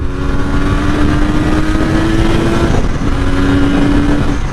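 Kawasaki 750 H2 two-stroke triple motorcycle engine running steadily while riding, a continuous loud drone with a sustained tone that holds, dips briefly near three seconds, then resumes at a similar pitch.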